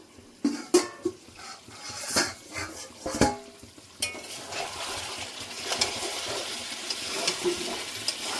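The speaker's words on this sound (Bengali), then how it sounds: "ঢাকনাটা খুলে দেখে নেব" A metal lid comes off a pot of simmering mutton curry, with several close clanks and knocks. A softer bubbling and sizzling hiss then settles in underneath.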